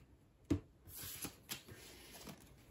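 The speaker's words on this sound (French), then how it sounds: "Il faut que j'ajoute des cartes au paquet parce que là il est pas épais quand même." Cards from the board game Dinoblivion are added to a deck, with a sharp tap followed by soft shuffling and quiet slides at close range.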